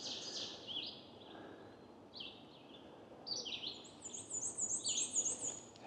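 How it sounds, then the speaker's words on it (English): A black-and-white warbler sings in the forest, its high thin squeaky phrases repeated several times, faint at first and growing closer and denser toward the end over a quiet woodland background. "I hear a black and white warbler in front of me somewhere."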